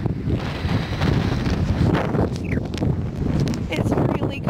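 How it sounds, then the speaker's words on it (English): Strong wind gusts on a cold beach in Iceland roar and buffet the microphone continuously, with surf rumbling beneath and a person speaking faintly at times. "I'm getting knocked over by these gusts of wind out here"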